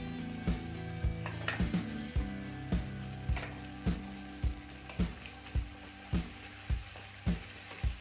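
Garlic and ginger sautéing in a pan, a steady sizzle under regular scraping strokes of a spatula roughly every half second, close and clear with no voices.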